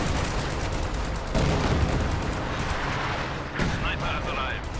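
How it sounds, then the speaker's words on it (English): Major artillery barrage in a World War II strategy game, a continuous roar of overlapping blasts and rumbling gunfire that swells near the middle, running under a commentator's voice. "I think that was major artillery."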